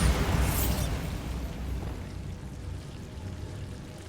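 A Bombarda explosion spell in the Hogwarts Legacy video game goes off as a loud, close blast and then decays into a rumbling, crackling tail that fades over several seconds.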